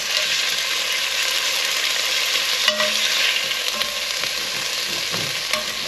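Beef mince frying in a pan, a dense, continuous sizzle that is loud and close, with a few faint scrapes from stirring and no voices.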